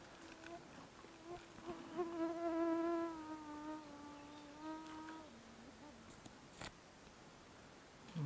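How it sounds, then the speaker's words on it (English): Mosquitoes buzzing close by at a lakeside fishing spot, a steady whining hum with rising and falling pitch that swells loud for several seconds, then fades to a fainter drone. "Mosquitoes are waking up."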